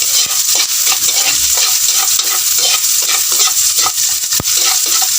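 Sliced ginger frying in a little cooking oil, a steady loud sizzle with scraping stirs and clinks of a spatula in the pan, no voices.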